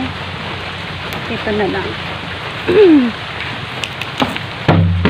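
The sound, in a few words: rain falling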